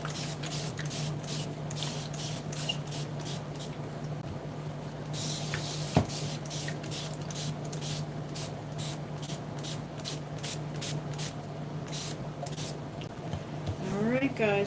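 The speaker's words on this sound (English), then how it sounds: "Spray it." Repeated short bursts of spray paint hiss across shelves made from old chairs, a regular series of close sprays with brief pauses, and a longer steady spray near the middle, over faint background hum.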